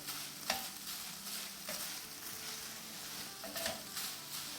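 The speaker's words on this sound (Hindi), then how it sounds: "चले बस इसको हम थोड़ा सा भून लेते हैं" Chicken being dry-roasted and stirred in a pan, a steady close sizzle with a few sharp scrapes of the spoon against the metal at intervals.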